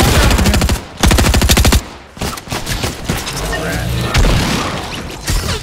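Rapid bursts of automatic gunfire in Fortnite, loud and close, with a dense rattling stream broken by brief pauses, then scattered shots and booms continuing.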